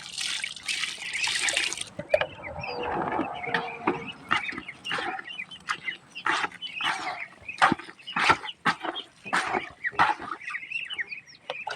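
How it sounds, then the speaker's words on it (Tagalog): Water is poured and stirred into chopped banana feed for ducks, with a gushing pour at first, then wet squelching and slapping mixing sounds in irregular bursts, close by, while poultry call faintly around. "Halo na natin ng tubig mga kapato."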